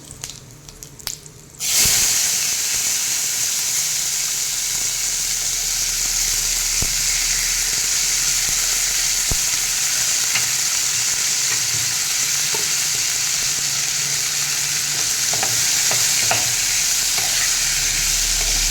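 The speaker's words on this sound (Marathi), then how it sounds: "मिक्स करून घेऊयात आणि त्याच्यामध्ये आता ही गवार घालूया" Cluster beans sizzle loudly in a pan of hot oil with turmeric and asafoetida, stirred now and then; after a brief pause the frying sets in and holds a steady, close hiss with occasional scraping and no speech.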